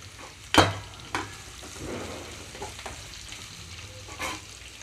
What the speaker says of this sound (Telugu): ఇప్పుడు ఇందులోకి లో ఫ్లేమ్లోకి టర్న్ చేసుకొని కట్ చేసి పెట్టుకున్న సొరకాయ ముక్కలు మొత్తం వేసేసుకుంటున్నాను